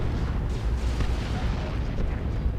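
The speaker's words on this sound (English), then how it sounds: "Creeping Basilisk Barrage." A creeping artillery barrage in a strategy video game rumbles with overlapping booms and bursts, a dense, loud, continuous pounding.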